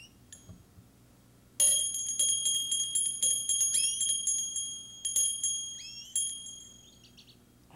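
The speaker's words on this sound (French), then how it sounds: "Prends ta petite cloche." A small bell rings in quick, repeated bright dings after a short quiet start, each strike ringing briefly before the next, close and clear with no talking.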